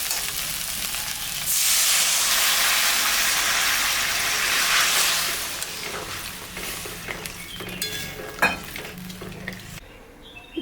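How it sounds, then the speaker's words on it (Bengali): Water poured into fried spices in a hot pan for a katla fish-head murighonto bursts into a loud, steady sizzle that runs for several seconds, then fades to softer crackling with scattered clinks and small utensil knocks. "মশলাটা ভাজা হয়ে গেছে, এখন আমি সামান্য জল দিয়ে দেব।"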